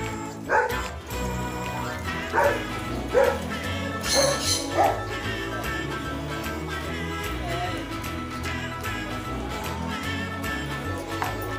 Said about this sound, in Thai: ถึงเห่าบ้านแตกเลยอยู่ในบ้าน